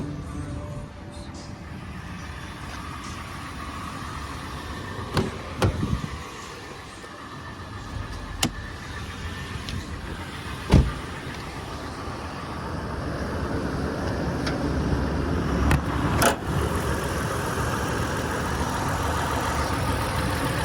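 A Toyota 4Runner SR5 2WD with a V6 engine idles steadily, a low continuous rumble heard from nearby outdoors, with a few brief clicks and bumps over the running engine.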